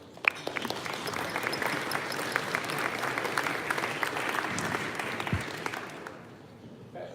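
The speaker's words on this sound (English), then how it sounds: "So please welcome them with a big applause." An audience welcomes speakers at a tech meetup with steady, full applause that holds for about six seconds before tapering off. The clapping is even and sustained, with faint crowd murmur underneath.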